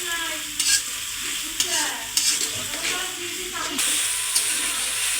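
Ground cumin paste and coriander powder stir-fried in a pan give a steady close sizzle, punctuated by several distinct scraping strokes of a spatula across the pan.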